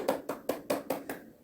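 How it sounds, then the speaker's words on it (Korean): Children give a short round of applause in a church Sunday school class, six crisp evenly spaced claps close up and fairly quiet, then fading out. "네, 박수."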